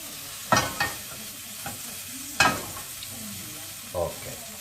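An ingredient melts and sizzles in a pan while a cauliflower risotto is being made. A soft, low sizzle runs underneath, broken by a few short, sharp scrapes of stirring spread across the few seconds.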